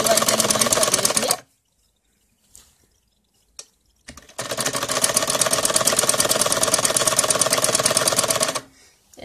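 A sewing machine stitching together salwar kali panels runs in two loud, steady bursts, a short one at the start and a long one later, separated by a quiet pause with a few soft clicks.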